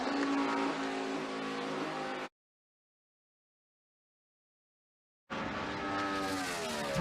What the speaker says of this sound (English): Three cars pull away, Johnson, Keselowski, and Kenseth.